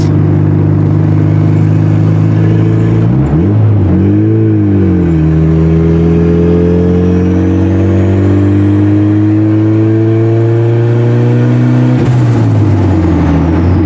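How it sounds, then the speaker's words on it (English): A powerful turbocharged Acura Integra engine of about 270 hp drones loudly and steadily, dipping and rising through revs, with a faint turbo whistle climbing above the roar. "your car sounds good"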